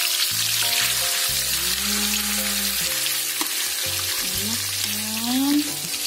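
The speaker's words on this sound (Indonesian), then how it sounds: "Tinggal kita goreng ikannya." Banta fish fry in hot oil with a loud, steady sizzle from start to finish, while melodic tones play underneath.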